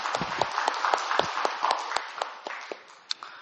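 A church congregation applauds during a Sunday service in scattered, uneven claps that fade toward the end, with a few sharp claps standing out.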